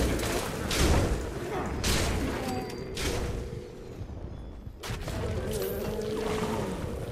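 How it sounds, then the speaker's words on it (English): A firework bursts in the video game Fallout 76, loud booming crackles and blasts repeating through dense, noisy game action with occasional thuds. "Whoa, shit, that's a firework."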